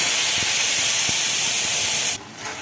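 Tomato paste goes into hot oil in a pan while aloo dum is being cooked on a gas flame. A loud, steady hiss and sizzle fills the sound, with a few faint clicks, then drops sharply near the end.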